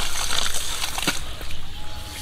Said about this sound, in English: The water coming, so my farm have the free water.